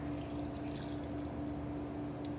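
Water poured into a well of flour for bannock bread, one and a half cups going in as a continuous close splashing pour that lasts throughout.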